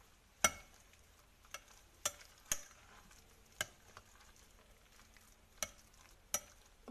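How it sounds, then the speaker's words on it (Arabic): Chopped vegetables are mixed with eggs, salt, spices and a little hot pepper in a bowl, giving sparse, sharp utensil clicks and taps at irregular intervals over a quiet background. "ومن بعد غادي نخلطها مزيان، غادي نجانسها مع البيض مزيان."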